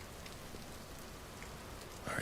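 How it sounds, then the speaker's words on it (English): Steady rain patters across the ground in the survival game Vintage Story, a dense even hiss that holds at the same level throughout, with a small rise in intensity near the end. "this rain starts picking up"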